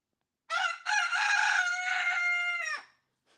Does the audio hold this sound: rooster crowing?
yes